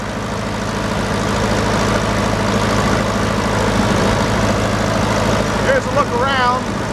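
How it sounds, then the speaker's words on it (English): An old International tractor engine powers a sawmill at a steam and gas show, idling in a steady low, loud drone throughout, with brief whining tones rising near the end. "Pretty good running old tractor."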